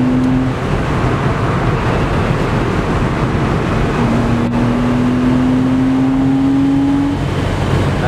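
A 2000 Porsche Boxster S driven with the top down pulls steadily in third gear, its engine note rising slowly over loud, constant wind and road roar for the whole stretch.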